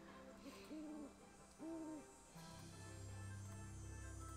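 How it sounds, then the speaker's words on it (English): An owl hoots in daytime within the Nancy Drew game Ghost Dogs of Moon Lake, two soft paired hoots in succession, with a low droning hum taking over afterward. "It sounded like an owl in, like, the daytime."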